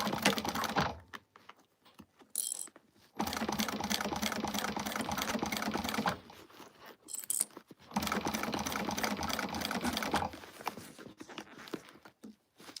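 A sewing machine stitches in long steady runs of fast rhythmic needle clatter, close and moderately loud, pausing briefly between seams.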